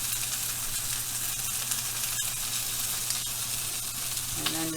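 Bacon frying in a pan on a stove, a steady dense sizzle and crackle that runs without a break, close up and fairly loud, with no talking over it.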